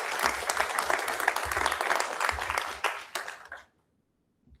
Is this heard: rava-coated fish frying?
no